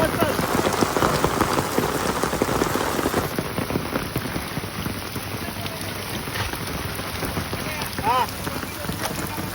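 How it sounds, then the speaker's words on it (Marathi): Heavy rain pouring down steadily outdoors, a dense, continuous hiss of drops drumming on surfaces with some wind, loud and unbroken from start to end. "जोरान पाऊस पडतो."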